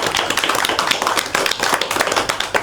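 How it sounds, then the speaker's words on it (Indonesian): A group claps together in brisk, dense applause, steady and fairly loud throughout with no voices. "Beri tepuk tangan untuk kita semua."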